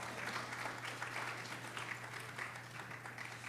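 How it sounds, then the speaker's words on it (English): An audience applauds as a speaker is invited onto the stage at a morning session of a young builders event: continuous, fairly distant clapping at low level with a steady hum underneath. "give her a big round of applause."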